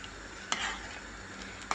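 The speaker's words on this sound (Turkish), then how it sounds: "Şöyle bir karıştıralım." A spoon stirs a salted leek stew in a pot: soft, close swishing under a faint sizzle, framed by two light metallic clinks against the pot, with no voices.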